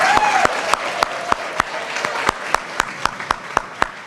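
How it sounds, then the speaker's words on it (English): Warm audience applause at a Barbados association gala in Houston, a broad crowd wash punctuated by sharp, regularly spaced loud claps from one person nearby, with faint voices underneath. "Please give him a hand of"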